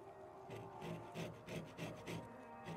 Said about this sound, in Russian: Берем наши цитрусовые и снимаем с них цедру.